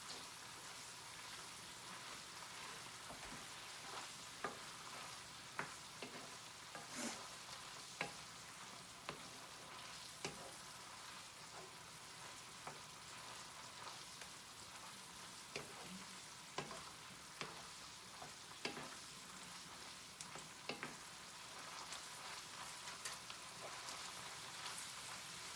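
Ground beef frying in a pan for a nacho taco salad, a faint continuous sizzle and crackle with scattered spatula scrapes and stirring clicks, no voice over it.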